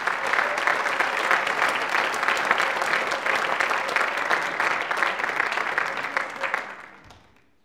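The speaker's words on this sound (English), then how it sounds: "Give them all, please, ladies and gentlemen, a huge round of applause." An audience at the Pan Celtic International Song Contest gives a round of applause for the performers, a sustained, full wash of clapping from a large crowd that tapers off at the end.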